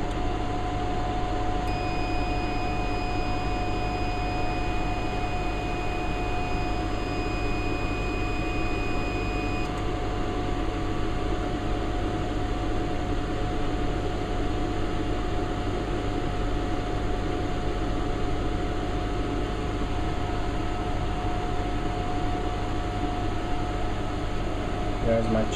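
Bottom and top cooling fans on a BGA rework station run in a steady, even whir that holds throughout, with a person speaking over it.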